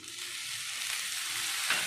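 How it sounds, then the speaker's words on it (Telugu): Lemon juice from two medium lemons being stirred into a hot South Indian tempering for lemon rice, a soft steady sizzle with a brief scrape of the spoon near the end, no talking. "సో ఇది కూడా ఇప్పుడే మిక్స్ చేసుకుందాం."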